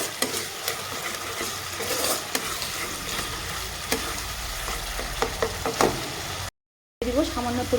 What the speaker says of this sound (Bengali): এখানে আমি মশলাটাকে সুন্দরভাবে কষিয়ে নিব মশলাটাকে ভালোভাবে কষিয়ে নিব